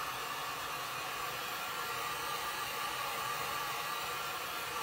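Hair dryer blowing on a painted thrift store sign to dry the paint, a steady loud whooshing rush of air that holds constant throughout, alone without speech.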